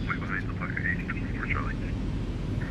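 Airliner jet engines on a 737 in X-Plane 11 spool up to takeoff thrust as a steady, loud low-frequency roar with a faint whine above it, while a voice talks throughout.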